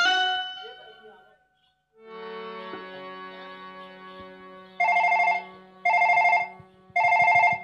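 A telephone rings in three loud, evenly spaced electronic bursts near the end, after a stretch of sustained synthetic tones, during a traditional Chhattisgarhi Nach Gammat folk stage play.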